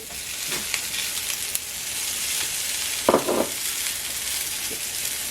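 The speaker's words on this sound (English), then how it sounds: "Now I throw in my peas." Peas land in a hot pan of kimchi stir-fried noodles, loud steady sizzling with a brief burst of louder frying and a few light knocks, no voices.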